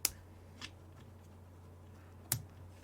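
Scissors snip yarn ends on a small crocheted amigurumi penguin: three quick, crisp cuts, one at the start, one soft, one later, in an otherwise quiet room.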